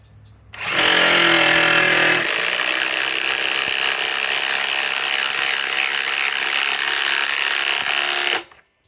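A Ryobi PSBIW25 compact impact wrench on an 8 amp 21700-cell battery whirs loudly and continuously for about eight seconds, starting with a higher-pitched burst that settles into a steady buzzing run before stopping.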